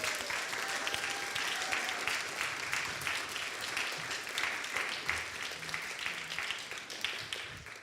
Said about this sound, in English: let's welcome them one more time with a big round of applause